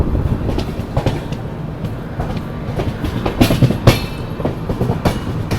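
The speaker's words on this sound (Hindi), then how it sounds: "अभी अपनी ट्रेन यहाँ से निकल गई है सिथौली रेलवे स्टेशन से" The Khajuraho Udaipur Express pulls out of Sithouli railway station near Gwalior, heard from on board as a close, rolling rumble with an irregular clickety-clack of wheels over rail joints.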